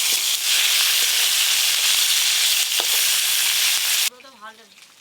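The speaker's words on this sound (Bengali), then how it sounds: "মাছের মুড়োগুলো কিন্তু একদম লাল লাল করে ভাজবো" Rohu fish heads fry in hot oil with a loud, continuous sizzle and occasional crackles, ending abruptly into a quieter moment with a brief voice-like tone.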